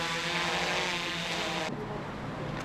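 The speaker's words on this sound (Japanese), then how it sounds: "死病を乗せたドローンが老人ホームに向けて離陸しました。" A delivery drone carrying medicine takes off toward a nursing home as part of a trial in Asahikawa. Its rotors produce a loud, steady whirring buzz, which drops abruptly to a duller roar partway through.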